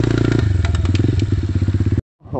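Worn-out pit bike engine running close by, a loud steady rhythmic putter with clattery mechanical knocks, cutting off abruptly near the end before a brief faint rustle.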